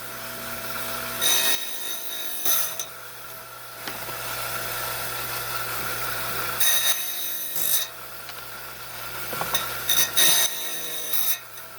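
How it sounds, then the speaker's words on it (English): A 5-inch trim saw grinds steadily through blue apatite with a continuous whine, broken by several sharper scraping bursts as the stone is fed through the blade. "we're on my 5-inch trim saw here. And I'm going to trim these down"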